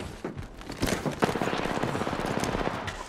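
Rapid automatic gunfire from an Apex Legends-style battle royale shooter match, dense bursts of shots rattling continuously and loudly over three seconds with no talk.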